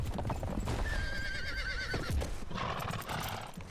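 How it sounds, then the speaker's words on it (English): In the video game White Knight Chronicles II, a horse gives a wavering whinny over steady clip-clopping hooves, loud and close, with a second shorter neigh near the end. "Horses."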